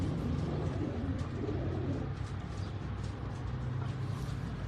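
A pink-eyed crossbred pigeon coos softly amid a continuous low background rumble, with faint soft calls in the first couple of seconds and no talking.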